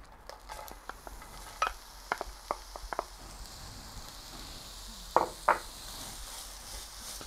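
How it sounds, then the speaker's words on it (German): Onions frying gently in a Dutch oven make a faint, soft sizzle, broken by scattered light clicks and scrapes from stirring. "Die Zwiebeln braten wir uns auch nur so ein bisschen glasig an"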